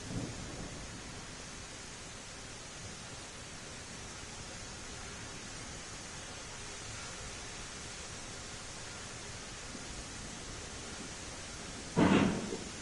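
Steady rain hisses in a video game storm, a soft, even wash throughout, with a brief louder burst near the end that may be a roll of thunder.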